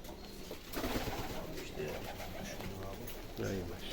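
Several pigeons coo in low, rolling burbles in İzmit, with voices talking quietly among the birds.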